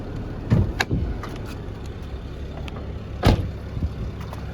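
A 2005 Mercedes-Benz E320 CDI with its inline-six diesel runs with a steady, smooth low rumble, broken by a few soft clicks and one brief thump nearby.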